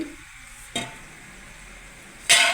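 Palakayalu snacks fry in hot oil, a soft steady bubbling broken by two sharp bursts of sizzle and stirring, close and without talk.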